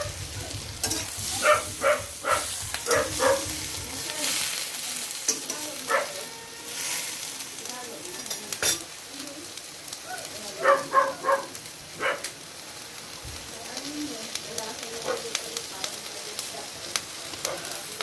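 Shrimp fry in a pan with a continuous sizzle and bursts of crackling spatter, rising and falling over about eighteen seconds, with occasional background noises.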